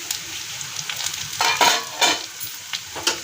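Okra, potato and onion pieces frying together in a pan, a continuous sizzle punctuated by louder bursts as the vegetables are stirred and turned, fairly close and without talk.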